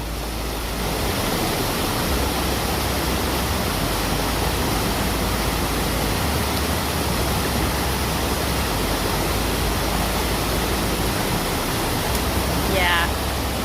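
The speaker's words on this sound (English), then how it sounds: "there's a lot of water coming through right here" Loud, continuous rush of water pouring through a stream on the Appalachian Trail in Connecticut, a dense roaring wash close by that never lets up.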